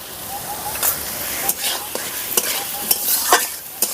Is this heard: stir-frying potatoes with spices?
yes